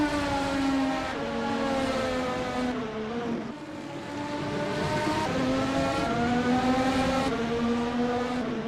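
Race car engines from a sim racing game at Semanggi Interchange roar continuously, loud and close, with rising and falling revs and gear shifts as the car speeds along.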